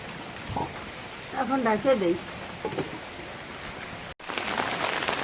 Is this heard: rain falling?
yes